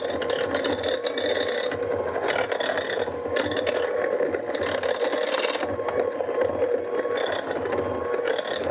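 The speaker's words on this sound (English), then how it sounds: "and use a hand mixer" A hand mixer whirs continuously at low speed, with a rough, grinding mechanical texture and slight wavering as it mashes thick potatoes with butter and half and half.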